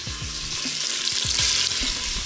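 Veal pieces frying in butter for a blanquette, a loud, steady sizzle with crackling spatter and occasional stirring clicks from the pan, up close and with no talking.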